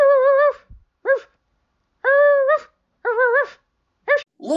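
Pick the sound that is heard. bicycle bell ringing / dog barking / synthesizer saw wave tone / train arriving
dog barking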